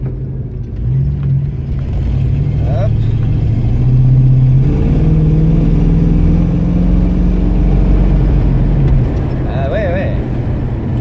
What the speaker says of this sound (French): On va tester un petit peu le freinage là.